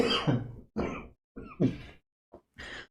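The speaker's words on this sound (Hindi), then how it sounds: "सॉरी भैया, पता नहीं खांसी हो गई" During an online physics lecture, the teacher coughs and clears their throat in a run of about five rough, close bursts separated by short silences.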